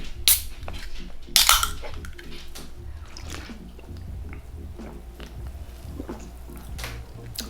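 Can of winter palm berry flavored drink being cracked open, with a sharp pop and hiss near the start followed by a second burst of fizzing, then quiet settling against low background noise.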